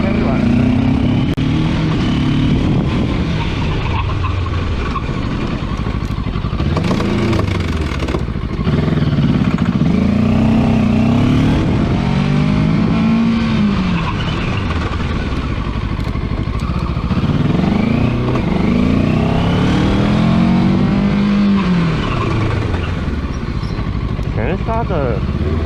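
A JEDI K750 motorcycle on a test ride, its engine note rising and falling through repeated acceleration and braking runs along a straight, loud and close, with wind rush and someone talking over it.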